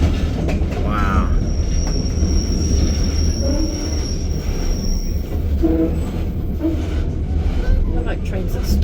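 White Pass & Yukon Route train passing near Skagway, loud continuous rumble with sharp wheel squeals along the rails, voices talking nearby.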